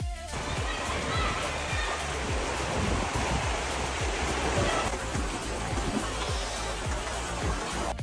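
River water rushing beside a rugged mountain trail in Mustang, Nepal, a loud continuous broadband roar with footsteps crunching rhythmically on the path close by.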